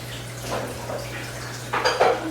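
Chocolate sheet cake batter mixed by hand in a bowl: soft scraping and tapping of a utensil against the bowl under a steady low hum, ending with a couple of louder clinks.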